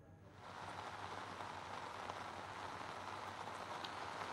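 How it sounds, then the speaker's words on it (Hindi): Rain falls in Uttarakhand, fading in within the first half-second to a steady, moderately faint hiss that continues unbroken, with no voices. "लगातार उत्तराखंड के कई जिलों में बरसात हो रही है"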